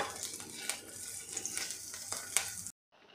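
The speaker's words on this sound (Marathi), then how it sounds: "आता ही मिरची आपल्याला खमंग अशी परतून घ्यायची आहे" Green chilies frying in oil for a curry leaf chutney, a steady broadband sizzle with a few sharp scrape-like stirring clicks, close and moderately loud, cutting off abruptly near the end to a quieter hiss.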